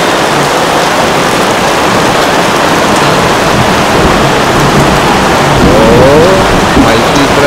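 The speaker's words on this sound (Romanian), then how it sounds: "Asta da ploaie." Heavy rain pours steadily at Termy Zakopiańskie, a loud, dense and continuous hiss with no pauses.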